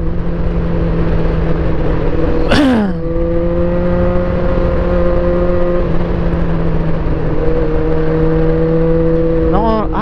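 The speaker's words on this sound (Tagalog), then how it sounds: "Papansin talaga tong motor na nagpapabomba." A motorcycle engine revs hard nearby on an asphalt mountain road, a loud sweeping wail at about two and a half seconds, then steady droning pitch, with a second rising rev near the end over constant wind and engine noise.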